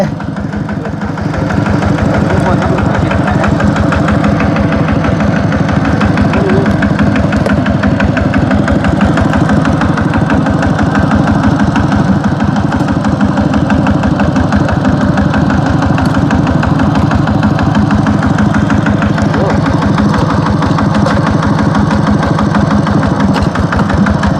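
A vehicle engine catches after a brief quiet start, then runs loud and steady for the rest of the clip with a rough, throbbing idle close by and no voices.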